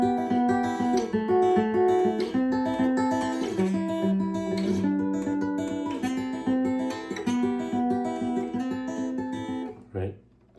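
Guitar plays the verse of a song, a flowing arpeggiated pattern with a steady timekeeping pulse, close and clear, ending with a final strum that fades out.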